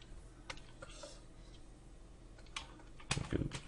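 Keys on a computer keyboard are pressed during digital drawing work, giving a few scattered soft clicks and a louder burst of taps near the end, close and quiet.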